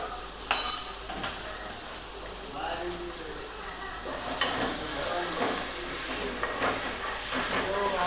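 Onions with salt sautéing in a pan for masala Maggi noodles, a steady hiss of frying that builds and holds after an early clatter of a utensil, with faint stirring scrapes throughout.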